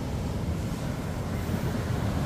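Big sea waves rolling and crashing on a shore near a barangay beach, a steady dense roar of surf with wind buffeting the microphone and no pauses throughout.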